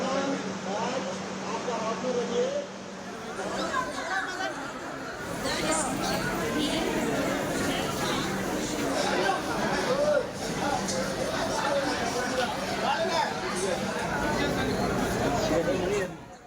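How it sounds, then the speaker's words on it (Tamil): A busy crowd murmurs and chatters at a railway station before Diwali, voices overlapping steadily with occasional louder calls and background bustle. "ரயில் நிலையத்தில் கூட்டம் அலை மோதுகிறது."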